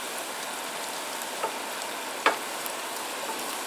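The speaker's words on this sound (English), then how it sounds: "Look at those scrambled eggs cooking with the potatoes and bacon." Scrambled eggs frying with potatoes and bacon over a campsite breakfast fire give a steady, even sizzle, with a couple of brief pops and crackles breaking through near the middle.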